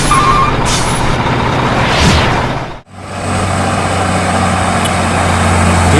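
Heavy Hino 6x4 trucks hauling pipes roll past in a convoy, giving a loud, continuous diesel rumble and road roar, with a brief dip midway before the next truck's engine noise fills in, with no talking.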